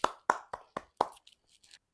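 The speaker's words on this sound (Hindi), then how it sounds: "इनके लिए ज़ोरदार तालियाँ भाई" Scattered hand claps from a small group, applause for a young dancer and model in a talk, about five sharp claps fading into a few softer ones within two seconds, fairly quiet and without voices.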